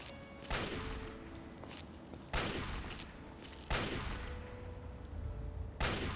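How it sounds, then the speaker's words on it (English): Gunfire in the video game Fallout 3: four loud, booming shots spaced a couple of seconds apart, each with a long rumbling tail, with no talk over them. "They're shooting at something up there."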